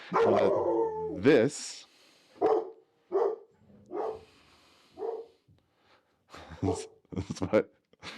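A dog barks repeatedly in short, separated bursts at close range, with a brief bit of human voice near the start.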